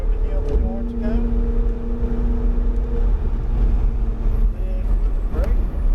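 A car accelerates over a hill on an extreme driving experience course, its engine a steady close drone that rises gradually, while an instructor talks over it.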